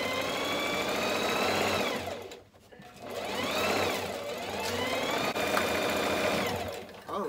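A sewing machine stitches a homemade clothes hamper, its steady motorized whir running almost continuously, loud and close, with a brief pause partway through before it starts up again.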